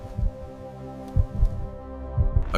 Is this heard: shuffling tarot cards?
no